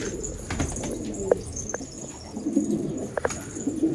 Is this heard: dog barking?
no